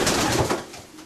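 Pigeons coo in a loft, a brief close burst of dense fluttering murmurs that fades over about a second, with no speech.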